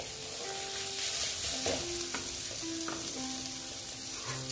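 Jackfruit and tomato fry in a pan with a steady close sizzle, while a spatula scrapes and clinks against the pan as the mixture is stirred.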